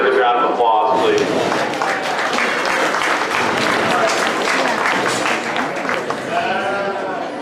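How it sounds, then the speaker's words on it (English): Audience applause for exhibitors at a livestock show, a sustained burst of clapping from a crowd with sheep or goats bleating near the ring and a voice over the clapping. "Let's give all those exhibitors a round of applause, please."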